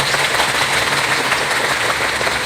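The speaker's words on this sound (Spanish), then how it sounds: "Aplausos para los dos hermanos." Church congregation breaks into continuous, dense applause, a steady wash of clapping with no clear speech over it.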